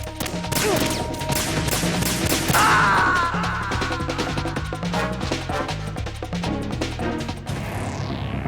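Gunfire in Metal Gear Solid 2 on PlayStation 2, a sustained stream of loud rapid shots with clattering impacts and a brief sweeping whoosh, continuous throughout.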